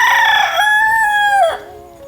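A rooster crows once, loud and close, in a village in the Konkan during the rainy season: a long, bright, ringing call that holds steady, then slides downward and cuts off, with quiet air behind it.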